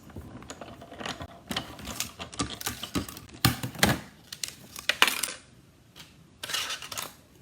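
Paper pieces for a shaker card being cranked through a die-cutting machine, an uneven series of close clunks, ratchets and rattling bursts with short pauses between them.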